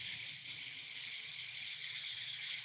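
A steady, sustained breath pushed out through the teeth on an S sound, a continuous bright hiss lasting the whole stretch at an even level, alone without talk, as a breathing exercise for singers.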